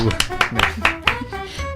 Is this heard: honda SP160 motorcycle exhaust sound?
no